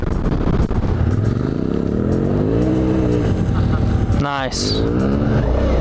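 A Suzuki V-Strom adventure motorcycle on Dunlop TrailMax Mission tires accelerates hard through first gear, shifts up and revs to full throttle in second, the loud engine note climbing with wind rush, and a rider briefly speaks.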